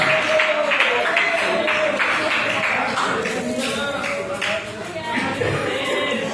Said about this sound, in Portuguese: e as palmas bem forte para Ele, para Jesus de Nazaré